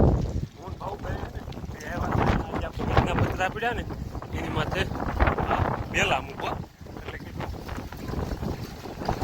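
Strong pre-monsoon storm wind roars and buffets the microphone throughout, with someone talking over the gusts.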